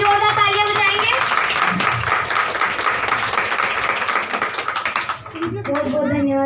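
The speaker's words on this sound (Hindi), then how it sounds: "जोरदार तालियां बजाएंगे।" An audience at a stage event claps steadily in dense, close applause that fades toward the end, followed briefly by someone speaking.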